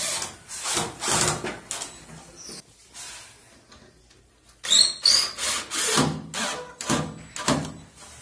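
A power drill drives screws into the eucalyptus wood side jamb of a sliding door kit, giving repeated close bursts of whirring and wood-biting noise with short pauses between them.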